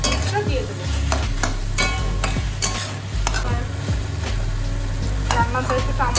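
Tomato frying in a pan for a Saraswati puja chutney crackles with a steady sizzle while a utensil scrapes and clinks against the pan in irregular stirring strokes, close and clear.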